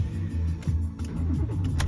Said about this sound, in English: there we go, vehicle starts and runs